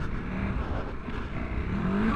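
A KTM 1290 Super Adventure R motorcycle engine on a 2024 first ride off-road, with a steady, loud engine drone and a rising rev tone near the end.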